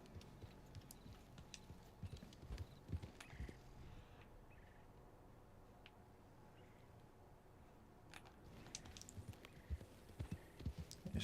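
Horse hooves from riding in Red Dead Redemption 2, a soft, uneven clip-clop of steps that fades during a quieter middle stretch and picks up again toward the end, with no talk.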